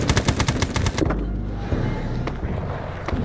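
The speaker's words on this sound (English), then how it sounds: "Shooting or something to the northwest." Gunfire in a war video game set at the A Shau valley: a rapid burst of automatic fire rattles loudly for about a second, then fades into a low rumbling background with faint distant shots.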